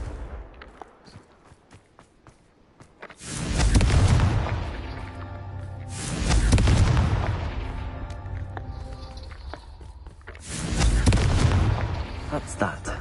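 A Confringo spell exploding in a Hogwarts video game, three heavy booming blasts a few seconds apart, each rolling out into a long rumbling tail, with speech partly under them.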